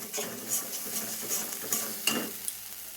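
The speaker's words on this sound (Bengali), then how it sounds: "এই বাটা মশলাটা দিয়ে খুব সুন্দর করে নাড়িয়ে চাড়িয়ে নেব" Ground spice paste being stirred in a pan while making pointed gourd and paneer dolma, soft scraping strokes with a few sharper spoon-on-metal clinks and a light sizzle, fairly quiet throughout.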